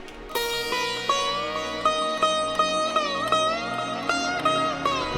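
Classic trance intro built from Spire synth pads and atmospheric layers: bright, bell-like synth notes strike in a steady rhythm over sustained pad chords, moderately loud and purely instrumental.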